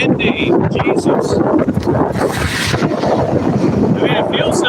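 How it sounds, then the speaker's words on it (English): Heavy wind blasting into the microphone outdoors in town, a close, rumbling roar with rough gusts throughout, under brief speech at the start and end. "Oh my God, it's so windy."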